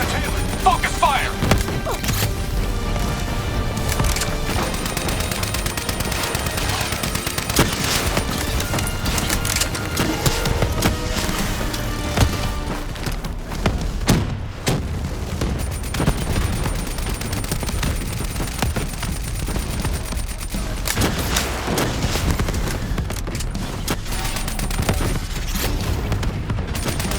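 Dense gunfire from the Call of Duty: Black Ops III campaign, a continuous loud barrage of rapid shots and explosions layered under music and voices for the whole stretch.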